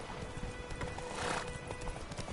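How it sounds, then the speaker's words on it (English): Hooves of the horse Roach clip-clop steadily in The Witcher 3: Wild Hunt, a continuous rapid gait under game ambience and music, with a brief whinny near the middle. "Come on, Roach."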